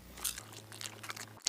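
Hard candy from a Hello Kitty egg is bitten and crunched close to the mic, a quick burst of faint crisp crackles lasting about a second, with no talk.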